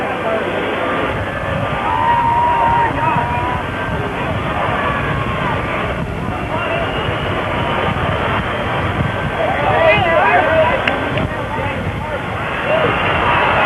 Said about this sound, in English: the crowd yells